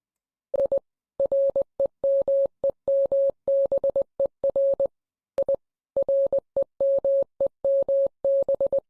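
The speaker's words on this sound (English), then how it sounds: "That's some Morse code." Morse code beeps sound as a single steady tone keyed in quick short and long pulses, with a brief pause partway through before the pattern resumes, clear and alone.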